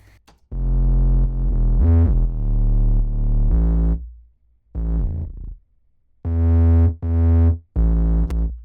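A deep synth bass in glide mode at 71 milliseconds plays a short phrase of held notes that slide smoothly between pitches, down to D then A, with pauses between the groups of notes.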